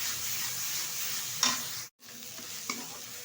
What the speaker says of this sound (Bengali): দিয়ে দিচ্ছি আদা আর রসুন পেস্ট, ভালোভাবে কষিয়ে নেব।